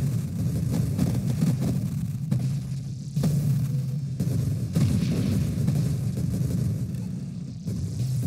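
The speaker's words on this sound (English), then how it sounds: "I am enjoying these massive explosions." Heavy, rumbling game explosions and gunfire blasts roll on continuously, loud and dense, with booming bursts layered over a constant low roar.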